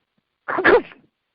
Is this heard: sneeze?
yes